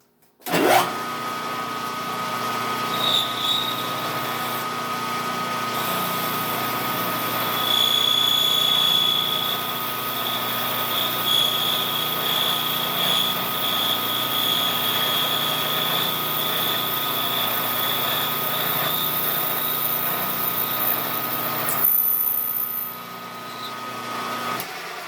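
An undersized 1/2 inch end mill cuts a scrap piece on a small home-built lathe, a steady, close whining machine hum with a high tonal ring that intensifies mid-cut and stops near the end.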